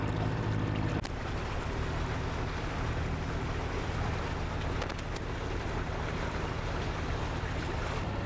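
A sailboat motors under diesel power across a windless sea, its engine a steady low drone blended with continuous wash of water against the hull, unbroken for the whole stretch.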